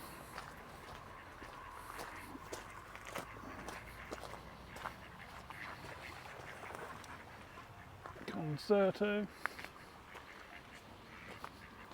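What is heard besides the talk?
ducks quacking by a river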